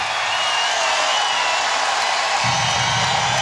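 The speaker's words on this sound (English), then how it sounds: "Oh, the emotion starting to ramp up in the crowd and on the court." A volleyball crowd at the Stan Sheriff Center cheers during a Hawaii versus UCLA men's match, a broad, steady roar filling the arena, with a lower swell joining near the end.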